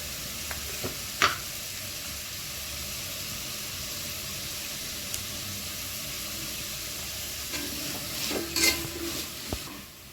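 Diced carrots and beans fry in a pan for vegetable biryani, giving a steady, close sizzle with scattered scrapes and clicks of stirring and a brief louder burst near the end; no one speaks.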